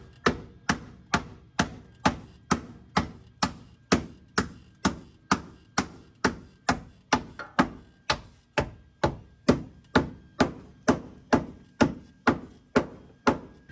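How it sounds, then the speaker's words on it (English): A sledgehammer pounds the pinch weld flat on a Toyota Tundra body. Over twenty heavy metallic blows land at a steady, even rhythm about two per second, close and loud, with no talking. "So now it's time to sledgehammer this pinch weld over."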